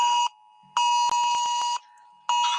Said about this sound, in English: There's an Amber Alert.